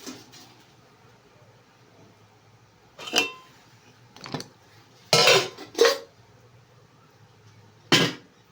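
Several separate metallic clanks sound in a quiet home kitchen while a lid is set on a pot of chicken curry cooking with onions, with sharp knocks and clatters spaced seconds apart.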